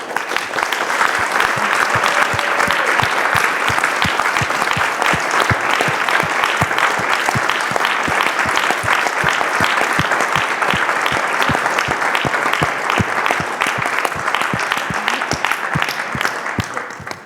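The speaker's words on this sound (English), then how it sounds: "please join me in giving a huge round of applause" Sustained audience applause at a Loyola University event on Israel and Palestine, a steady, even wash of many hands clapping for the full stretch, then tapering at the very end.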